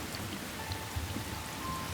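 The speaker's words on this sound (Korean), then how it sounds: "소나기예요. 금방 그칠 거예요." A sudden rain shower pours steadily in a film scene, a soft continuous hiss of rain on surfaces with faint scattered drops, fairly quiet and with no one talking.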